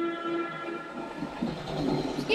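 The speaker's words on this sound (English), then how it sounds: "Excuse me, train." A train rolling past in the video game Plants vs. Zombies Garden Warfare, a steady rumbling rail drone with a sustained horn-like tone and rising clatter, loud and continuous with no talk over it.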